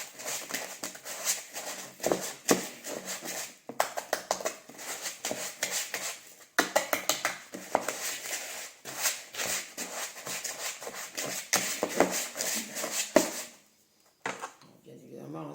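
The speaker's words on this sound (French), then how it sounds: "je vais prendre mon fouet plat métallique et je vais donc essayer de mélanger un peu tout ça" A flat metal whisk scrapes and clatters quickly through chocolate chip cookie batter in bursts of close, uneven strokes with short pauses, and a voice talks over it.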